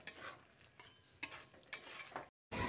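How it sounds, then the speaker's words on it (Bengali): A spoon stirs yard-long beans with ground garam masala and coriander leaves in a pan, giving a few distinct scraping strokes with a faint sizzle beneath and a brief silent gap near the end. "এবার সব শেষে অল্প একটু গরম মশলার গুঁড়ো আর কিছু ধনেপাতা ছড়িয়ে দিচ্ছি, দিয়ে ভালো করে মিশিয়ে দিচ্ছি।"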